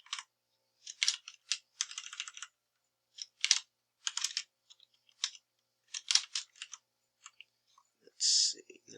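Close keys on a computer keyboard clack in quick irregular bursts separated by short pauses, ending with a brief louder click.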